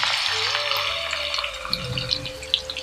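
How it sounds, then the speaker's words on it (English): Sliced onions hitting hot vegetable oil in a pan, giving a steady bright sizzle and crackle that runs throughout at close range, with faint clinks and stirring underneath. "Once the oil is hot, add the sliced onions"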